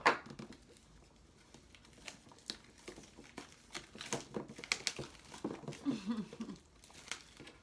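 Cardboard beauty boxes being cut open, with a run of close crinkling, tearing and scratchy cutting noises, some of them sharp clicks, going on steadily for several seconds with no talk.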